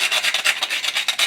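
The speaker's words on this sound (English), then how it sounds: "just very gently grate some fresh cinnamon" Fresh cinnamon stick grated by hand on a grater, giving quick, steady rasping strokes in a close, even rhythm with no voices.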